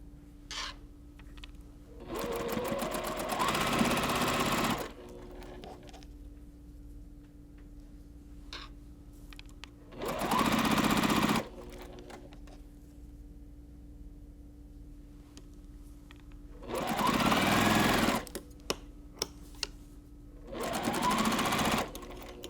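Sewing machine stitching patchwork pieces of a small quilt block, running in several short bursts of rapid mechanical whirring separated by quiet pauses with faint ticks and handling noises.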